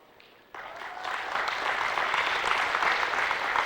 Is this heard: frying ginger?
no